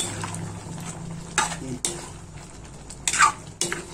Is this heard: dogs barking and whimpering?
no